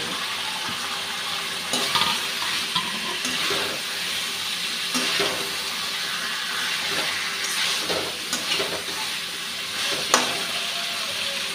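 Fried potatoes stirred into a spiced poppy-seed paste in a pan for alur dom, a steady sizzle with clattering stirs and scrapes scattered throughout, close and continuous.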